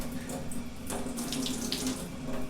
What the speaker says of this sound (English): So what you can do is turn on your faucet, then turn it either to one side completely or the other.